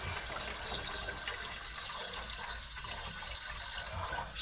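Vinegar pours steadily into the fuel tank of a 1985 Honda Goldwing 1200 Aspencade motorcycle, a continuous splashing, gurgling liquid stream at low volume, with no voices.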